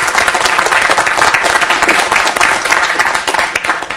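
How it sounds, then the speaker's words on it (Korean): A church audience applauds steadily and loudly to welcome a speaker to the stage, a dense continuous clapping from a crowd filling the whole moment with no talk over it. "박수로 모시겠습니다."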